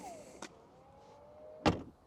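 Motorized door of a BMW 7 Series diesel closing by itself, a whirring motor glide ending in a soft close and a sharp latch click, close and quiet, with no talk.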